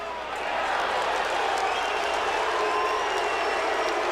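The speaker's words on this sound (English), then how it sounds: "Really interesting to hear the mixture of the crowd here." A large football stadium crowd at the 2002 Oklahoma at Tulsa college game sends up a sustained roar of cheering and applause that swells after a quieter opening and holds steady, broad and loud.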